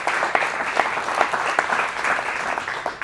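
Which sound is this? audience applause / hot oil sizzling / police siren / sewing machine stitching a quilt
audience applause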